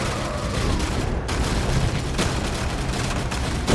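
Sniper and battle gunfire from the real-time strategy video game Dawn of War III, with a dense, steady wash of shots and booms throughout, loud and continuous with no clear gaps.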